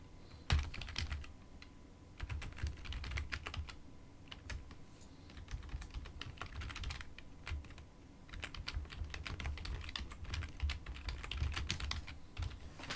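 A string is typed on a computer keyboard in quick, uneven runs of close key clicks, with short pauses between bursts and no talking.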